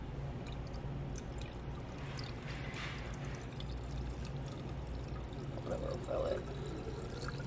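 Water pours steadily into a laboratory flask to fill it up to the sidearm, a faint continuous splashing wash with no break, close by and alone without talk.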